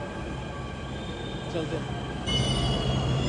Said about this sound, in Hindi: एंड मेट्रो भी आ गई है सेम टाइम पे।